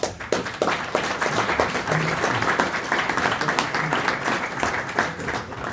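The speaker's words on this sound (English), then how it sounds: "So a big applause to all the panelists." Conference attendees applaud the panelists at the close of a panel discussion on critical infrastructure security, steady crowd clapping continuing throughout at a moderate level.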